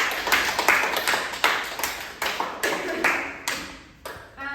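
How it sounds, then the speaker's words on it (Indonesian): Classmates in a micro-teaching classroom clap for one another: a small group's sharp, separate claps in an irregular rhythm, each quickly decaying, close and fairly loud. "Tepuk tangan buat teman-teman."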